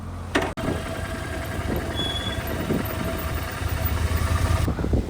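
Motorcycle engine running steadily during a bike ride in Mysore, a continuous low drone with rumble and wind noise that holds throughout after a brief dropout near the start.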